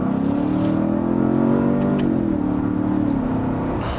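A 2017 Ford Fusion Sport's twin-turbo 2.7-liter V6 accelerating, its steady engine drone rising in pitch through a gear, then shifting and climbing again, close and continuous with no voices.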